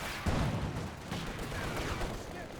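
MG34 machine gun firing in Company of Heroes 2, a dense sustained burst of rapid gunfire with overlapping shots in a busy battle mix, heard without clear talk.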